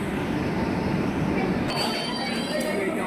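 Rumbling rail noise fills a station as a train arrives, with metallic clinks and a faint high squeal from the wheels, and voices of waiting passengers chatter nearby.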